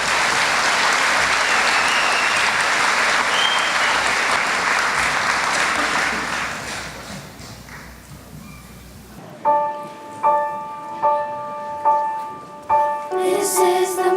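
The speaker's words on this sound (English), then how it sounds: "Let's give them a round of applause, please." A crowd applauds a choir at a dedication ceremony, loud sustained clapping that fades after several seconds, followed by a few clear ringing bell tones struck in a steady rhythm.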